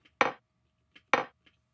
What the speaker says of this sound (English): we have a mortar and pestle being hit together